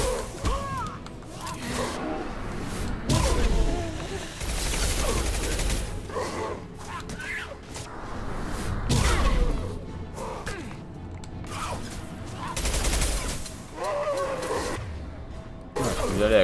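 Gunfire and impacts in the sci-fi shooter video game Mass Effect 2, with repeated bursts of shots, whooshes and crashes throughout a combat scene while someone talks over the action.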